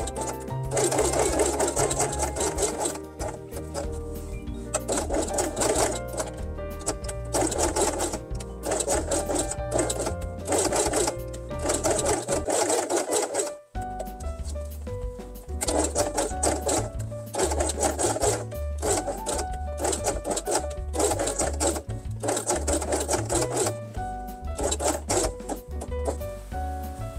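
Sewing machine stitching felt pieces for a giraffe page of a quiet book, running loud and close in long buzzing bursts with one brief stop midway.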